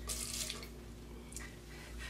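Tap water runs briefly to rinse a wine glass, with a short splashy burst at the start and fainter trickles and splashes afterward, quiet and close over a low background hum.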